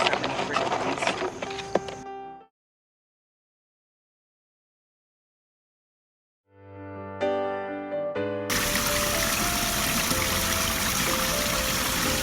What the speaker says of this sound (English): Test run on the stream